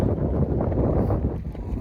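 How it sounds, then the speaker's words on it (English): Wind gusts buffet the microphone on an open hiking trail in Wyoming, a dense low rumbling roar that swells and eases without pause, close and fairly loud, with no talking. "yeah, it's windy in Wyoming"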